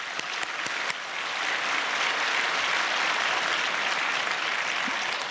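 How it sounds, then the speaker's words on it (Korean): Church congregation applauding together, a steady dense wash of clapping that holds at full strength throughout, with no talking over it. "소망부 박수 한번 드리십시다."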